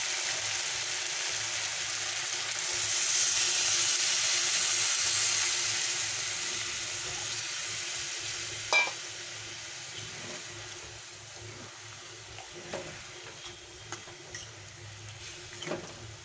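Water poured into a pan of jackfruit curry gives a loud hissing sizzle that swells, then eases into softer bubbling with scattered clinks and stirring knocks.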